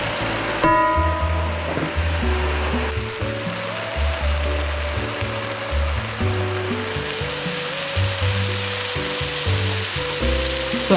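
Vegetables stir-fried for collard lo mein sizzle steadily and loudly in a hot pan, a dense continuous frying hiss with scraping stirs, while low tonal music plays underneath throughout.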